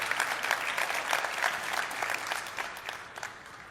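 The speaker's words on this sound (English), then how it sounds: "Please go ahead and clap." An audience at a Rotary International address breaks into clapping, a dense patter of hands that swells early and then gradually thins out over a few seconds.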